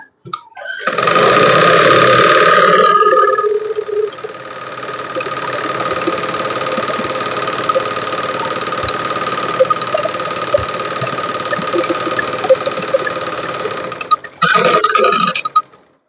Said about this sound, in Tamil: ரெண்டாவது தையலை இந்த மோட்டினுடைய ஹை ஸ்பீடு எவ்வளவு இருக்கோ அந்த அளவுக்கு நான் தைக்கிறேன்